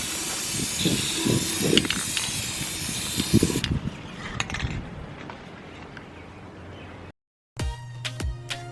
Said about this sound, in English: you'll be spraying the inside of your vases